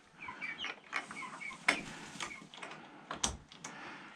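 Hens and roosters in a coop give short, repeated clucks and murmuring calls at close range, mixed with intermittent knocks and rustling.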